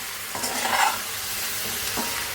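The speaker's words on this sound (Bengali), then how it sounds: "তরকারিটা সম্পূর্ণ তেলে ভাজা ভাজা হয়ে গেছে।" Pointed gourd and potato curry frying in oil as a spatula stirs it, giving a loud, continuous sizzle with a few scraping strokes across the pan.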